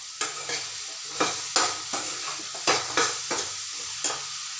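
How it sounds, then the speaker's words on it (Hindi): Spices sizzle loudly in hot oil, tempering for a pumpkin dish, while a spoon stirs and scrapes the pan with repeated sharp strokes, close up and without speech. "तो बातें करते करते मैंने कद्दू की सब्जी को तड़का लगा दिया है"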